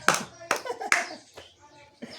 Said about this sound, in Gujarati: પહેલા તું તાળી પાડ લેજે